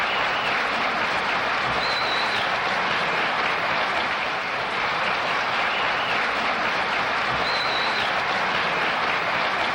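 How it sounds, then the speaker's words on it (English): A dense, even roar of applause from a large crowd, sustained at a steady level for nearly ten seconds, with two faint high tones briefly above it and no voices. "I got to give him a round of applause, actually"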